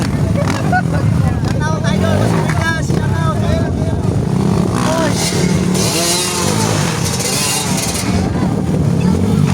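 Loud motorcycle engines roar and whine continuously at a local endurocross enduro race in Vermosa, Cavite, with revving surges up close while a crowd chatters and cheers in the background.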